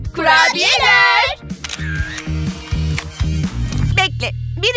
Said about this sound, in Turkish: Ve şipşak fotoğraf makinesi.